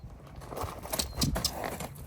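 A fearful three-year-old Mustang shifts about close by, with a few soft hoof thuds and scuffs on the ground at a quiet, uneven pace.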